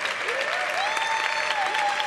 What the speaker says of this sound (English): Please give these hardworking women a rousing, much-deserved, and enthusiastic round of applause